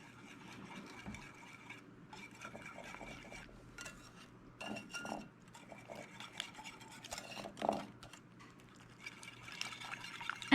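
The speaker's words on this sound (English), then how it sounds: "you're going to whisk it" A whisk stirring fruit cake batter mixed with powdered sugar in a bowl gives a quiet, continuous run of soft scraping and tapping for about ten seconds, with a few louder clinks against the bowl near the end.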